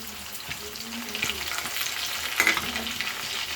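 Spice masala being stirred into onions and potatoes frying in a pan for an egg and potato curry, a close steady sizzle with repeated spatula scrapes and a sharper clatter midway, no one talking.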